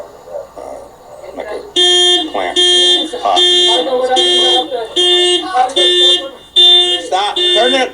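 A car alarm blares loud and close in repeated pulsing, warbling tone bursts that cycle through different patterns with brief gaps between them.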